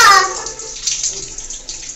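Water splashes and pours close by while a little girl is bathed, a brief bright gush followed by softer sloshing.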